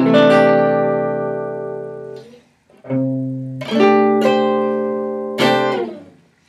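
A rich sustained major chord with added ninth and thirteenth rings out for about two seconds and fades, followed by three more chords struck in quick succession, each left to ring.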